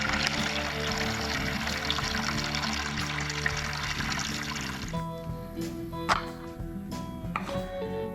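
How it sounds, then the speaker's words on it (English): Water trickles and pours steadily from holes drilled in refilled buckets, a continuous liquid splashing outdoors on a summer day, heard alone without talk. "You can see the water coming out of it there."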